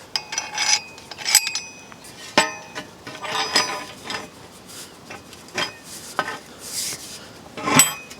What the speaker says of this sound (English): It's an 18mm socket.